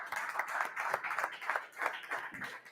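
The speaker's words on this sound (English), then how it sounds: "How's a round of applause there?" A live audience claps at the close of a Grade 12 maths Paper 2 session, an uneven round of hand claps with rhythmic swells, steady and moderately loud, with no talking over it.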